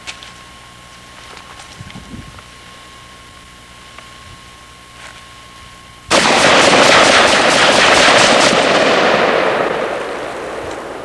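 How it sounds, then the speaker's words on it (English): An old AK rifle cuts loose outdoors after several quiet seconds, with a loud, rapid burst of sharp shots that rings out and slowly fades. "giving me a shot with your old AK here"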